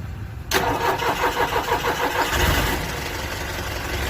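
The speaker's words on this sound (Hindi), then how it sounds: "ये गाड़ी यानी बहुत हार्ड क्रैंकिंग है, लेट स्टार्ट हो रही गाड़ी" An SML Isuzu school bus engine with a hard-cranking, late-starting fault cranks with a rapid rhythmic chugging before catching and settling into a rough, steady idle, loud and close.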